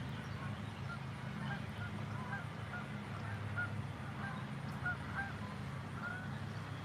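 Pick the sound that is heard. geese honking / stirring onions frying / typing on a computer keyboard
geese honking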